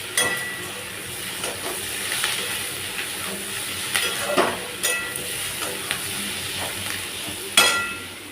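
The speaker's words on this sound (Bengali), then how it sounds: "পেঁয়াজটা এখানে অনেকটাই নরম হয়ে গেছে ভাজতে ভাজতে।" Onions frying and softening in a pan give a steady low sizzle, with occasional sharper crackles and stirring scrapes rising above it throughout.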